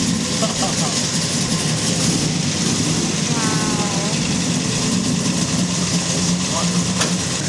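A 1970 Chevrolet Chevelle SS engine rumbles at a steady idle throughout, loud and close, with a brief rising rev partway through and people talking over it.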